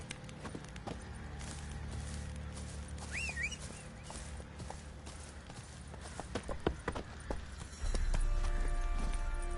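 Horse hooves clip-clop at a steady walking rhythm in The Witcher 3, set against a constant ambient game soundscape, with a few brief louder accents near the end.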